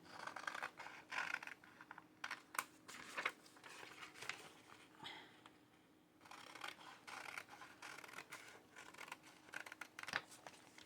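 Paper being trimmed with scissors for junk journal ephemera, a quiet series of crisp snipping and scratchy cuts, pausing briefly midway before resuming.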